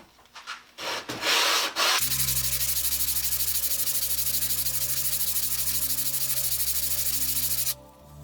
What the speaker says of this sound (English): that 80 grit sandpaper goes through the rust pretty quickly